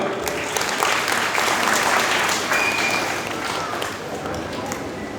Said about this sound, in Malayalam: നിങ്ങൾക്കും അതിൽ അഭിമാനമുണ്ടെങ്കിൽ ഒരു കയ്യടി നൽകാം.